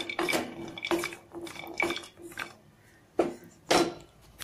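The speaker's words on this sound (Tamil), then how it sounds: "இப்போ வந்து நம்ம சுக்கு வந்து வறுத்து எடுத்துடலாம்." Small broken pieces of dry ginger being roasted in a pan, with repeated scraping and clattering strokes of a utensil against the metal, fairly close and moderately loud, alone without voices.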